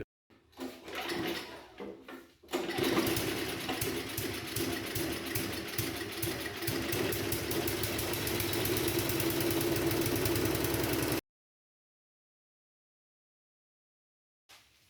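An old lawn mower engine is pull-started with a few brief tugs, then catches and runs steadily at a loud, close, even chug for about nine seconds before cutting off abruptly into silence.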